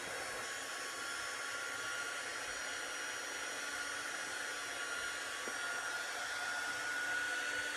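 Hair dryer blowing continuously at steady volume while drying a handmade Christmas craft gnome, with a constant airy roar from start to finish.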